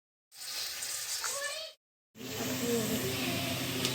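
Onions frying in about three spoonfuls of oil in a pan, a steady close sizzle and hiss that stops briefly and then resumes louder with crackling.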